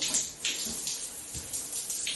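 Shower water running at its coldest setting, a steady close spray that rushes continuously with slight surges and no voices.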